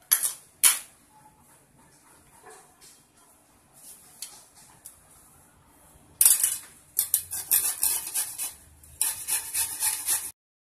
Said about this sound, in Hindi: और ये छिलका उतार लेने के बाद अब हम इसे कद्दूकस कर लेंगे।